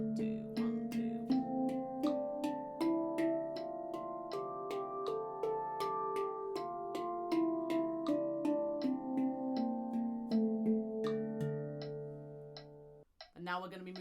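A handpan plays a steady run of evenly spaced notes, struck with alternating crossed hands in a relaxed two-per-side pattern. The tones are close and ringing, and a few quicker taps follow at the end.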